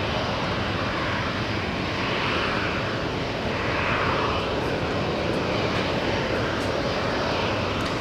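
An Airbus A330neo jet arriving from Rome at JFK Airport, a loud, steady broadband engine roar that holds constant throughout without pause.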